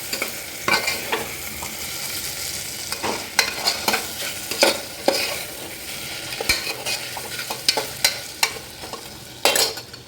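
Tomatoes frying in a pan for biryani, a steady close sizzle broken by repeated sharp scrapes and clacks of stirring, alone with no talk.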